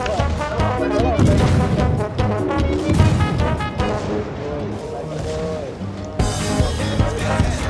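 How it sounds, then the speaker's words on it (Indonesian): Loud torpedo explosions and booming blasts in World of Warships with rapid gunfire, churning water noise and frantic music beneath, dense and chaotic throughout. "Oh, torpedo! Oh, aku meledak!"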